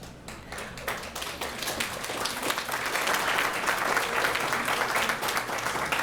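An audience at an awards presentation breaks into clapping, starting with scattered individual claps that swell into full, sustained applause across the room.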